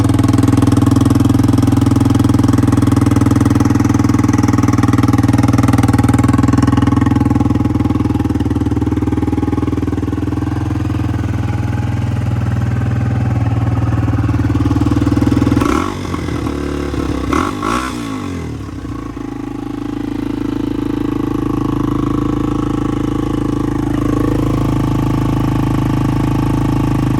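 A 1989 Honda XR250R motorcycle engine runs steadily and loud close by with the choke on, its low thumping drone broken briefly by a few clattering, revving surges midway before settling back to an even idle.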